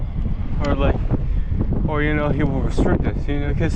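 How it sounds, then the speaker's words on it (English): Gusty wind buffets the microphone while biking, a steady roaring rumble underneath a person talking over it. "it's very windy"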